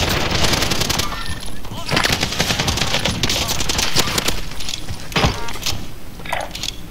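Dense video game gunfire in rapid automatic bursts, loud and continuous over seven seconds, with sharp individual shots standing out and some voices underneath.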